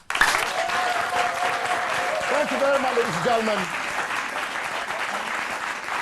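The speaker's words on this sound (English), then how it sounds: "all the contestants here have performed so brilliantly well, and they deserve an applause" An audience applauds contestants at a student quiz competition celebrating a health students' week, the clapping steady and full throughout while someone speaks over it at the start.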